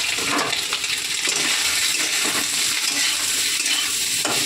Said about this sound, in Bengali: সোয়াবিনগুলো ভেজে নেব।